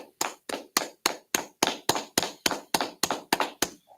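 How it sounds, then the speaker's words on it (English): A group at an ISUPK history class in Houston claps in unison, about a dozen sharp, evenly spaced claps in a steady rhythm, close and crisp, with no talking. "clap it up, clap it up."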